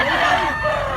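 A rooster crows close by, a single loud, drawn-out call with a strained, harmonic-rich tone filling the short stretch, at a gamecock sale in south Cebu.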